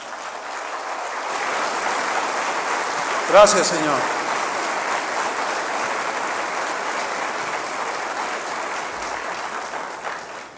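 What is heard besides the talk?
congregation applause in church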